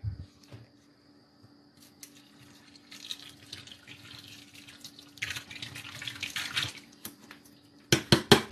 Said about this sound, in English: full bottle pour for the live goal.